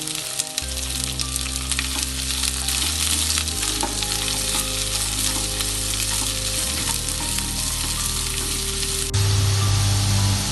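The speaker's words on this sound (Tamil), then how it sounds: "அடுத்ததான் அந்த வெங்காயத்தை இதிலே சேர்த்து நல்லா வதக்கிக்கலாம்" Chopped onions sauté in a pan for Tamil-style masala bonda, a loud, steady sizzle running unbroken throughout, with a low, sustained tonal backing beneath it.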